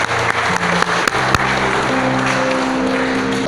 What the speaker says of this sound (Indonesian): Monggo tepuk tangan semuanya